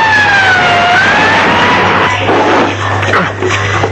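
An ambulance siren wails loudly and close by, its rising and falling tone sweeping over a steady low engine hum, with no one speaking.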